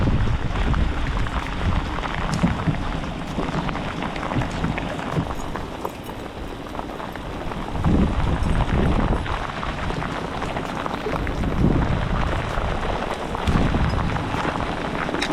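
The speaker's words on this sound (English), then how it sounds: "What you call a downpour right now" Heavy thunderstorm downpour on a Canadian lake during pike fishing, a loud, dense, continuous roar of rain with wind buffeting the microphone and occasional heavier surges.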